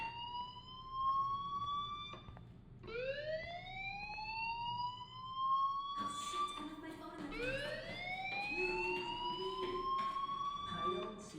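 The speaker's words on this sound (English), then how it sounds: "do you hear that fire alarm?" Fire alarm in the Life is Strange video game, a loud repeating rising electronic whoop that sweeps upward again and again, sounding alone and continuously.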